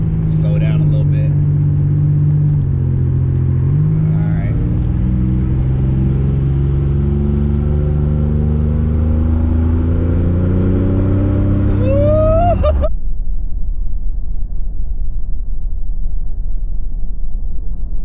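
Turbocharged 1987 Buick Regal T with a V6 revs hard as its engine note climbs steadily, turbo spooling up, then cuts off abruptly near the end to a low rumble; loud and close.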